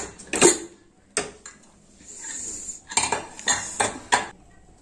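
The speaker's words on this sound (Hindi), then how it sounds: "अब हम कुकर का ढक्कन खोल देंगे।" Metal pressure cooker lid for a potato stew opened after cooling, heard as a handful of sharp, close metallic clanks and clinks in irregular bursts separated by quiet gaps, with no talking.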